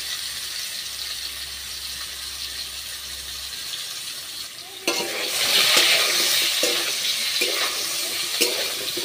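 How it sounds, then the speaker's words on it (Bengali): Papaya pieces go into a hot pan and are stirred, a soft hiss giving way to a louder, brighter sizzle with repeated scraping strokes of a spatula, heard up close without talk. "পেঁপেটা দিয়ে দেওয়া আবার একটু নাড়াচাড়া করবো"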